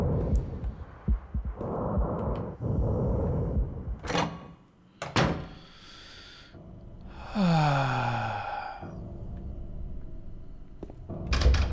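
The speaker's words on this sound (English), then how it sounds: "this sounds very mechanical and not natural breathing" Mechanical, unnatural breathing from a respirator-like source in the Silent Hill 2 (2001) hospital setting: heavy rhythmic exhalations and hisses alongside clanks and a descending whooshing sweep, fairly loud and close, with no talking.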